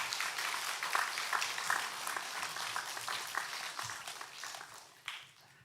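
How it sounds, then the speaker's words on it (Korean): A church congregation claps steadily for the choir in a large sanctuary, a warm burst of applause that gradually thins out and fades toward the end. "박수로 격려해 주시기 바랍니다."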